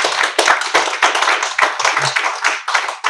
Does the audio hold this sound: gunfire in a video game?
no